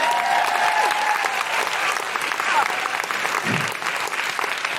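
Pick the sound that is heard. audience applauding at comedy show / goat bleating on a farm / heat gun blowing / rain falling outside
audience applauding at comedy show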